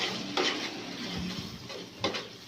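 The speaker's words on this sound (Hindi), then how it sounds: "अब आप इसको तकरीबन 5 से 10 मिनट के लिए फ्राई करें" Mutton liver (kaleji) with masala paste frying in a pan, a soft steady sizzle with a few sharp stirring scrapes and clinks of a spoon against the pan.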